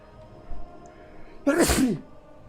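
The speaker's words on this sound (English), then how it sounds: "that was just a normal sneeze" A single loud, close sneeze bursts out after a brief soft sound, with no talking.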